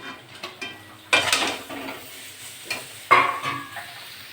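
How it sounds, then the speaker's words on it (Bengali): Chicken masala and tomato being stirred in a pan, with a few scraping strokes of the spoon over a soft, quiet sizzle, two stronger scrapes standing out. "মশলাটা ভালো করে নেড়ে নেব।"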